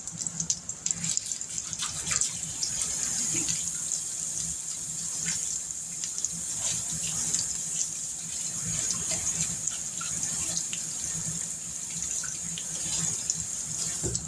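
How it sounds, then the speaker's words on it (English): Steady tap water runs and splashes into a sink as hands are washed in a home kitchen, a continuous close hiss with small irregular splashes throughout. "Let me wash my hands."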